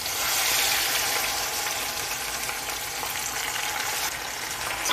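Battered shrimp fry in a pot of hot oil, giving a steady, loud, crackling sizzle that holds throughout with no talking.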